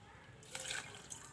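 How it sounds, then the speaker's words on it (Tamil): Water is poured onto palm jaggery in a bowl, a brief soft splash and trickle in a quiet kitchen. "சேர்த்துட்டு 1/4 கப் போல் தண்ணி சேர்த்துக்கிறேன்"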